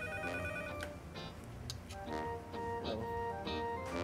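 A telephone rings indoors with a repeating electronic ringtone of bright, pulsing melodic tones in short bursts, moderately loud and heard alone without talk.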